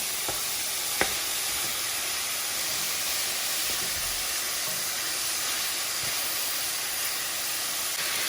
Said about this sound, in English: it's so hot, it's hard to avoid the steam